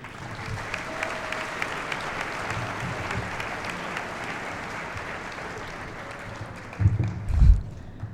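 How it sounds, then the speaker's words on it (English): Steady applause from a large crowd at a high school graduation ceremony, sustained and even throughout, with a louder burst of clapping and a few cheers near the end. "let us first give a big round of applause for all these special people in our lives"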